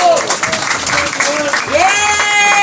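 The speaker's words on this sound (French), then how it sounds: "Ça s'applaudit. Bravo." Audience applause at an official arts and culture silver medal ceremony in Aubervilliers, a steady burst of clapping lasting a couple of seconds with a voice speaking over it.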